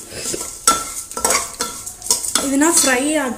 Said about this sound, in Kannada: 1 ನಿಮಿಷ ಇದನ್ನು ಫ್ರೈ ಮಾಡ್ಕೊತಾ ಇದ್ದೀನಿ